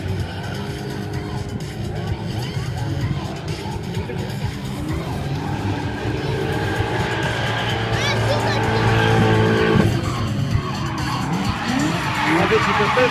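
A BMW E30 fitted with a V8 engine races past with tires skidding and squealing, its engine roaring loud and continuous while a commentator talks over it.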